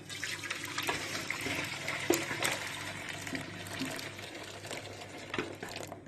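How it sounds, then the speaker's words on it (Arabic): Water strained off in a home kitchen while making a homemade household cleaning solution, a steady close pouring and splashing stream running without a break. "هصفي الميه ديت الاول"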